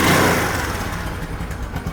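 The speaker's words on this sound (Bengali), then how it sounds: "দেখেন নতুন গাড়ির যে সাউন্ড, ইঞ্জিনের দেখছেন সাউন্ড" A used Bajaj Discover 125 cc motorcycle engine runs steadily up close, a dense, continuous mechanical hum that is slightly louder at the start and then holds an even level.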